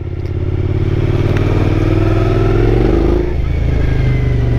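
A 2014 Suzuki V-Strom 1000 motorcycle engine revs up close, its deep throbbing note swelling steadily and holding loud before dropping back to idle near the end.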